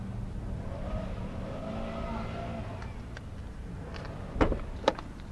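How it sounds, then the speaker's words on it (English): Electric power windows on a used car with a four-speed automatic, a low steady motor whirr running for a few seconds, followed by two sharp clunks as the glass stops, close, with a faint background hum. "electric windows."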